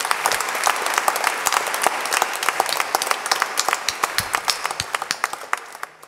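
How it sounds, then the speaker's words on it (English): Congregation at a Lenten retreat applauding together, a dense wash of many hands that thins toward the end into separate, distinct claps. "Let's give a mighty clap to the Lord."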